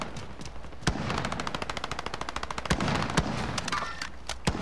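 Automatic gunfire in the video game Call of Duty: Modern Warfare, rapid bursts of sharp shots in quick rattling runs punctuated by a few louder single blasts, close and loud with no talk.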